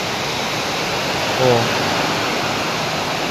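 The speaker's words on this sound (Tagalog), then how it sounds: "Grabe, yun yung sinasabi ko na pabugso-bugso ang ulan dito." Heavy rain drums steadily on a roof in a continuous dense hiss, with a short exclamation spoken over it.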